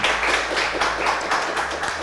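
A studio audience applauds on a French TV show: dense, continuous clapping from many hands, fairly loud and steady throughout.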